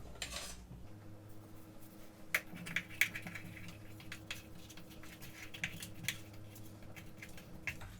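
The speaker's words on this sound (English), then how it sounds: "I'm going to take a scissor and cut off all the extra pieces" Sharp crisp snips and clicks from scissors trimming excess sourdough discard crust dough for a mushroom quiche, scattered irregularly over a low steady hum, close and fairly faint.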